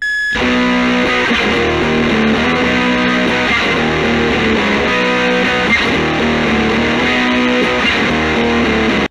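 A heavily distorted electric guitar of a rare model plays loud, sustained chords and riffs continuously, with a thick, gritty tone and no voices.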